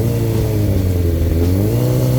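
A 2008 Suzuki GSX-R1000 motorcycle fitted with a carbon Yoshimura exhaust revs loud and close, its engine note climbing and holding steady throughout.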